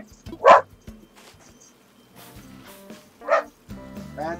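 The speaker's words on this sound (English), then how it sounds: "That's my dog, JJ." A pet dog named JJ barks in two sharp, loud yelps a few seconds apart, with quieter whimpering and game-like tones between them.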